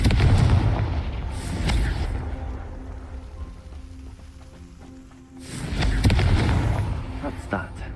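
Confringo fire spell blasts in the video game Hogwarts Legacy, heavy booming explosions with rumbling tails that come at the start and again later, loud and close, with quieter crackling between.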